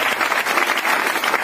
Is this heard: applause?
yes